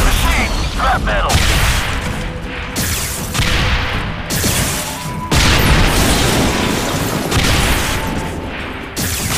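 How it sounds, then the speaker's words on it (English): A special attack in the video game Anomaly Korea pounds enemy towers: a dense, continuous barrage of booms, crashes and mechanical clatter, loud and close, surging in waves for the whole stretch. "use the special attack on them"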